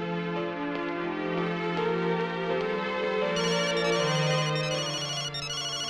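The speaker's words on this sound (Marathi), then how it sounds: "कुणाचा का फोन?" A phone ringtone plays in a Marathi film scene, a steady repeating electronic melody that rings on continuously and fairly loudly with no voices over it.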